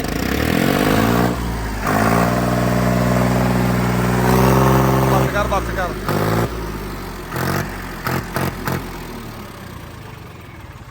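A Farmtrac tractor engine revs hard in a rising, loud roar, then drops back into a bumpy, uneven idle with brief gaps, heard up close while someone speaks briefly over it.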